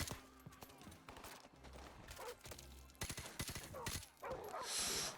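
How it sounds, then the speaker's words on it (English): Dogs bark in the video game Call of Duty 4: Modern Warfare Remastered, sharp repeated barks mixed with bursts of gunfire and loud in-game action. "I hear some dogs coming in."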